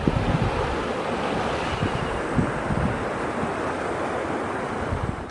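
Floodwater spreads across hundreds of hectares of submerged rice paddies in Candipuro, South Lampung, after a river embankment burst. A steady, loud broadband rush of water and wind runs without a break, with no voices.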